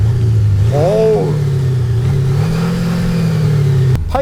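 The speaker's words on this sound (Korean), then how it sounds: "8기통의 터보 엔진 같은 느낌 쫙 들리는데요" A turbocharged V8 car engine revs up hard outdoors, a deep rumbling growl climbing in pitch and holding steady, loud and close, then cutting off abruptly.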